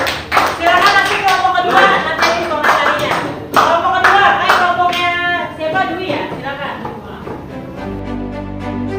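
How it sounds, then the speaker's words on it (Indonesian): Applause for a group of students during a classroom presentation session, a dense burst of handclapping from the class that tapers off, with a teacher speaking over it. "tepuk tangan untuk kelompok yang lain"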